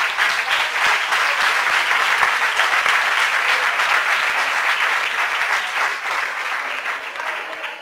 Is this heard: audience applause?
yes